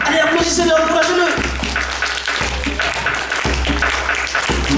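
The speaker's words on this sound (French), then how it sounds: "Allez, applaudissez-le, encouragez-le." Audience applause during an African storytelling performance, rhythmic unison clapping from a crowd with a steady beat, mixed with voices and cheering over it.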